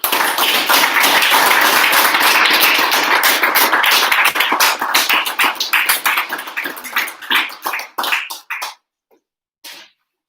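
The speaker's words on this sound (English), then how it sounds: "So I wish to give these guys a round of applause and thank you." A crowd at a boys soccer awards afternoon claps loudly for several seconds, then the applause thins into scattered individual claps, fades out and ends with a last isolated clap or two.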